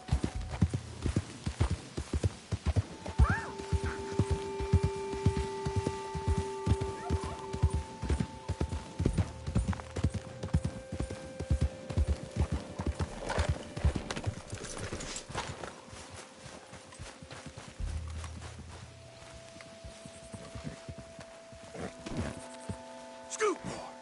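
Horse hooves galloping in Red Dead Redemption 2, a fast steady clip-clop running close and loud throughout, with occasional whinnies and a voice calling out now and then.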